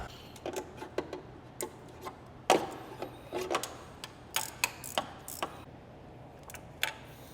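A wrench tightens the front coil pack bolt on a Subaru STI during a spark plug change, giving sparse, irregular close metallic clicks and ticks over a quiet background.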